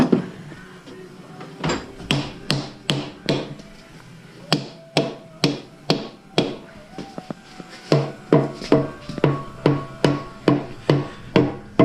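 Mallet blows ring out on the engine parts of a 454 big block during a rebuild, two bursts of rapid, sharp, evenly spaced strikes, loud and close, split by a short pause, with no talking.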